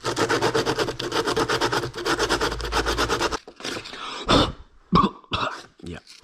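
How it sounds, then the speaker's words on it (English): Fast, rhythmic rasping of sandpaper rubbing on a plastic headlight housing for about three seconds, followed by quieter scattered scuffs and handling noises. "I might just hit that with a little bit of sandpaper to try and flatten it out"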